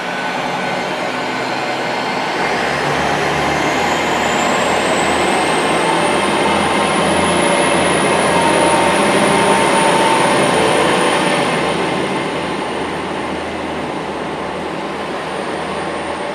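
A Class 800 IEP train departs Reading station on the Great Western Main Line, giving a loud, sustained rumble with a rising high whine that swells and then eases over about sixteen seconds, with no voices.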